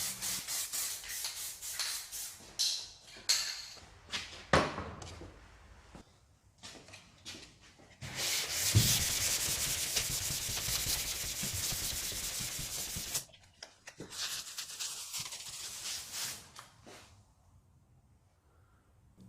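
Hand sanding of primer marked with black guide coat on a Honda CR-X body, rhythmic rubbing strokes followed by a long continuous scrubbing stretch, close and fairly loud.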